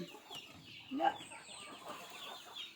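Chickens cluck softly near a farmyard while being called home, with a faint rooster-like note among them. The sound is low and scattered under background noise.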